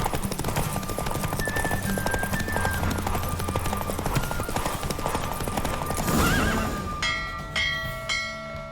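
A horse gallops in The Witcher 3 with loud, rapid, even hoofbeats, and a neigh rises near the end before ringing, bell-like tones take over in the last seconds.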